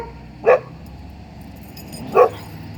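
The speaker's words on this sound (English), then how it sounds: "They're barking at a Wagner's refrigeration people." A pair of dogs barking at delivery workers from a refrigeration company, two separate sharp barks about a second and a half apart, close by, against a low background hum.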